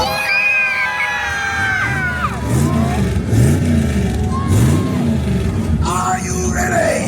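A large crowd at a monster truck show at a York funfair cheers, screams and shouts loudly and continuously, with children's high-pitched yells rising above the roar.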